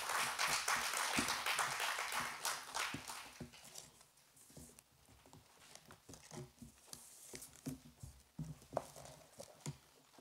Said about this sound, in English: Let's give Dr.